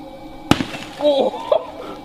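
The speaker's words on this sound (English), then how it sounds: "the watermelon accelerates to over 100 kilometers per hour before smashing into the ground" A watermelon dropped from a 45-meter drop tower hits the ground at over 100 km/h with one sharp, loud smashing crash, followed by faint scattered sounds and brief voices.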